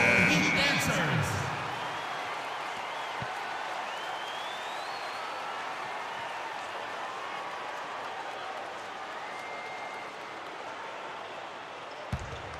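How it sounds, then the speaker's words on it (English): Arena crowd applause in the NBA 2K13 basketball game, Lakers versus Heat, is a steady, dense wash of cheering and clapping that swells at first, then settles to a constant roar under a voice. "Give a round of applause, fans."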